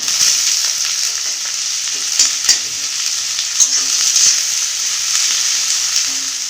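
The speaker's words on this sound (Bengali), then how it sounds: "এবারে দিয়ে দিব কুচানো পেঁয়াজ" Chopped onion fries in a pan with oil, dried red chilies, a bay leaf and garlic paste for a jackfruit curry, a loud continuous sizzle broken by intermittent spatula clicks and scrapes.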